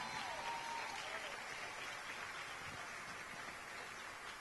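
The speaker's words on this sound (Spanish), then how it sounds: "Aplaudí bien fuerte al Señor" A church congregation applauds, a faint, distant, even wash of many hands clapping that sounds soft and hissing, with little variation throughout.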